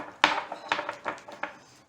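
A spoon clinks against the inside of a mug of coffee several times in a steady stirring rhythm, close and fairly bright.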